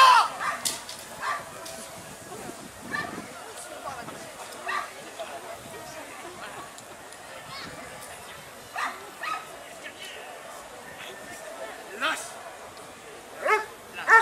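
Defence dog at an agricultural fair show, barking and yelping in repeated bursts while guarding a suspect on its handler's command, set against a busy crowd murmur and speech throughout.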